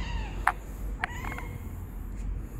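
A cat gives two or three short, faint meows spaced about half a second apart against a quiet, low background hum.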